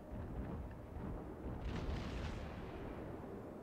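Naval gunfire in a warship video game, heavy booming shots rumbling continuously through a dense low-end wash of distant cannon fire and explosions, with no talk.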